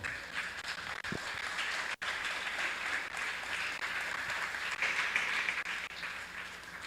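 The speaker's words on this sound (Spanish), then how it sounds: "Dele un aplauso al Señor." A church congregation applauding, broad sustained clapping from many people across the room, even and continuous for several seconds with no voice over it.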